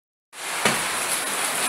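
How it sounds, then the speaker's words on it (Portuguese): Heavy rain in a storm begins abruptly and pours as a steady, loud hiss of water striking surfaces, including a backyard pool, close and continuous, with no talk over it. "Olha o barulho da chuva."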